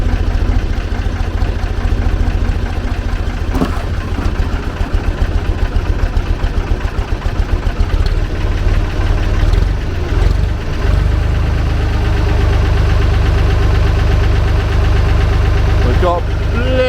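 Off-road forklift engine runs loud and steady while the machine lifts about half a ton of wood, a continuous low diesel-like drone with slight knocking, near and unbroken throughout.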